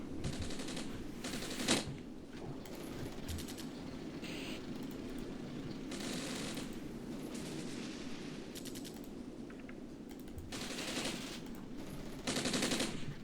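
Sustained automatic weapon fire in the Armored Brigade wargame, a medium machine gun position under attack: repeated bursts of rapid rattling shots with crackling reports, steady and moderately loud over a constant battle din, with no speech.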